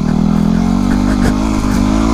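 A Yamaha WR250R dirt bike engine revs on a hill ride, a loud, buzzing mid-pitched drone with quick throttle surges, close and constant for a couple of seconds.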